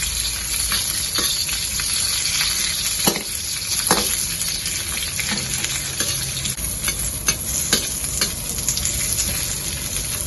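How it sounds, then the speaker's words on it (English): Capsicum frying in oil in a wok over a low flame, a steady close sizzle and hiss with occasional sharp scrapes and clinks from stirring, and no talking. "Put in the capsicum first and use a lower fire. Fry until you can smell the flavor from the capsicum."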